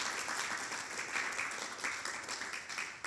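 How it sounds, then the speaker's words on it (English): Audience at a symposium opening session applauds steadily throughout, a dense, even wash of many hands clapping with slight swells and no voices on top. "please join me one more time in a round of applause for all of these wonderful folks"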